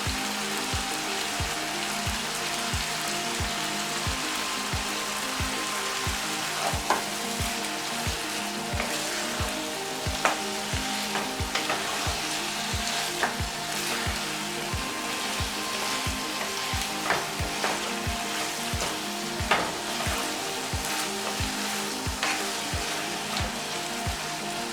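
Tomato paste and curry frying in a pan for a vegetable stew, a steady close sizzle and crackle with a dense, rain-like patter that runs unbroken throughout, and no voices.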